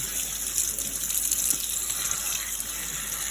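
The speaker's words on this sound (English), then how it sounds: "Make sure your greens are washed." Tap water running steadily into a kitchen sink while greens are washed, a constant close hiss and splash with no talk.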